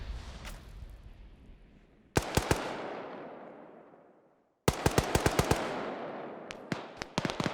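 Gunfire in the Arma 3 military shooter: loud bursts of rapid automatic shots, each burst followed by a long fading echo tail, then a denser volley of cracks with scattered single shots toward the end, no voices present.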